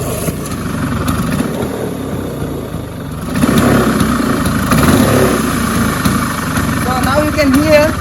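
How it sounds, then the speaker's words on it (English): A 1993 Bajaj Chetak scooter with a rebuilt engine runs after a kick start, its mid-pitched putter idling steadily and picking up louder partway through, close by with someone talking over it. "So let me just start the scooter now, and all you need is a single kick."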